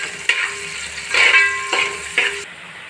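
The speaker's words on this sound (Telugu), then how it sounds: "ఉల్లిపాయ బ్రౌన్ కలర్ వచ్చే వరకు వేపుకోవాలండి" Onion frying in oil in a pan for mutton dum biryani, a steady sizzle broken by a few louder bursts as the pieces are stirred, close and fairly loud with no talking.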